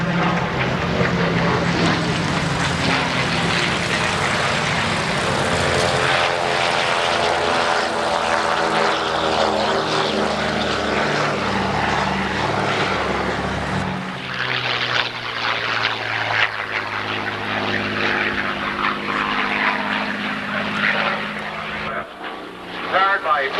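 A propeller fighter plane with a 1,490-horsepower Packard engine roars past at the 1988 Confederate Air Force airshow in Harlingen, loud and sustained, its pitch shifting as it passes, while a voice talks over it.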